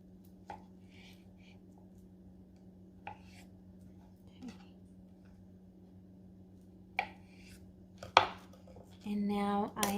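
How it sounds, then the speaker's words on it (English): A knife slices fruit into rounds for topping yogurt, giving a few sparse, soft cuts against a quiet hum, followed near the end by a brief clatter and a louder scraping rustle. "For now, I am just going to cut it into rounds to top the yogurt with"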